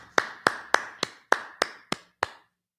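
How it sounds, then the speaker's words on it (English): A small congregation claps hands at a Sabbath service in eight sharp, evenly spaced claps, close and clear, with no talk over them. "All right, clap it up."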